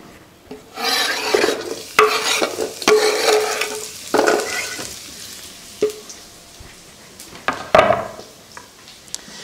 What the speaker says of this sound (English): My pan is warming up nicely. I'm just going to drop these in the pan.